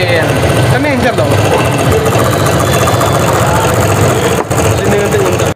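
A sewing-machine motor serving as a drink mixer whips a beverage with a continuous loud, chattering buzz, briefly dropping out near the end, while people talk over it.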